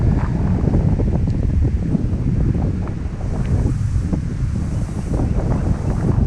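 Strong wind buffets the microphone in a steady, loud roar on a blustery fishing trip, with a faint wash of waves beneath; no voices.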